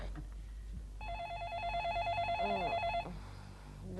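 A telephone rings with a warbling electronic trill for about two seconds, fairly close, over a low background hum and faint movement.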